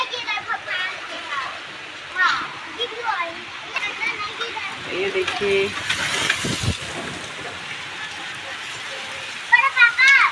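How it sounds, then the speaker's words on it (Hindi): Heavy storm with strong wind and falling rain, a continuous broadband roar of gusts and water spatter with bursts and splashes, while a person talks over it throughout. "आंधी तूफान बहुत ज़्यादा हो रही है दोस्तों।"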